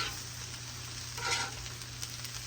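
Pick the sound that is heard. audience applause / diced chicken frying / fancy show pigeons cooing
diced chicken frying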